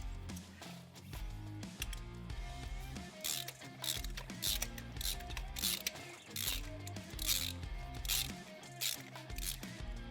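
A spark plug is turned by hand in a rapid run of ratcheting clicks, a continuous mechanical clatter heard close up and fairly quiet.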